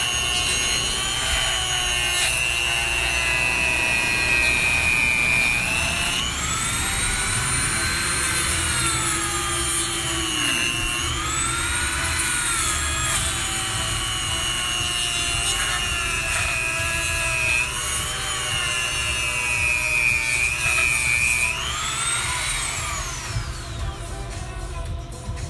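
A Dremel rotary tool cuts material to mimic a wrought iron fence, a loud continuous whine that rises and falls in pitch as the tool runs steadily, with no talk over it.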